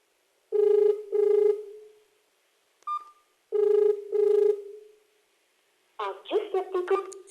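A telephone line rings unanswered, giving two clear double-burst ring tones in a steady pattern with pauses between them. A short electronic blip sits in the middle, and a voice starts talking right after the last ring.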